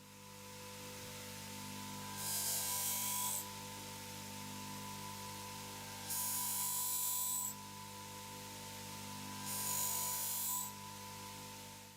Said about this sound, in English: now all that needs to be done is I've got to sharpen this